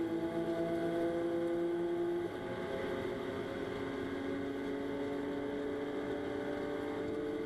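GT4 race cars at full throttle around the Jeddah street circuit in Saudi Arabia, a steady high-pitched engine drone with a gear change partway through, held continuous and moderately distant with no voices over it.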